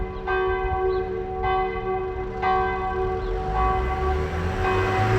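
Church bell ringing in repeated strokes, each with a long sustained hum, heard steadily over road or wind noise outdoors during a bike ride.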